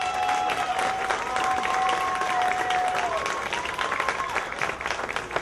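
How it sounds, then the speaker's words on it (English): Crowd applause at the 2009 Pacific Rim Street Fest, a steady outdoor wash of clapping and cheering that continues throughout, with a few sustained whistle-like tones rising and falling over it. "Let's give them a round of applause."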